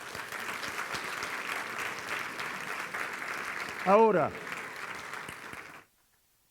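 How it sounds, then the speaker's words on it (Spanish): A church congregation claps steadily in sustained applause for several seconds, a voice rising briefly over it before the clapping cuts off. "Denle un aplauso al Señor."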